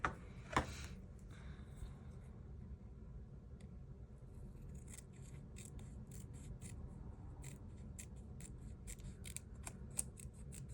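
Scissors cutting paper for a collage journal, close up: a few sharp snips at the start, then a series of small crisp cuts over a faint steady room rumble, with no talking.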